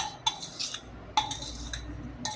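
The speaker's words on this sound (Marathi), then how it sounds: "आता हे सगळं मिक्स करूया आपण चांगलं मस्त." A spoon stirs coconut filling for modak in a bowl, with a few sharp metallic clinks and soft scraping strokes close by, separated by brief pauses, and no speech.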